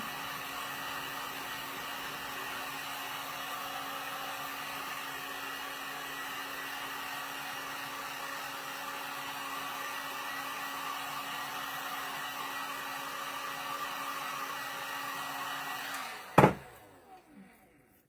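A hair dryer blowing heat to dry Mod Podge on a DIY fall cookbook holder, a loud steady whooshing drone that runs for about sixteen seconds, then clicks off, followed by a few faint handling knocks.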